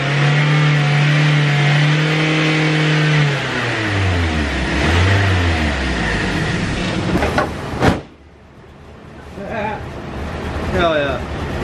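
A BMW E36 on a dirt project engine runs roughly and revs up and down close by, the pitch rising and falling before it cuts off, while people talk around it.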